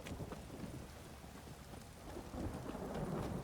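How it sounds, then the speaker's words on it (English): Heavy rain and rumbling thunder in the Witcher 3 video game, a dense steady downpour with low thunder building toward the end, no talking. "This downpour's a bastard, it is."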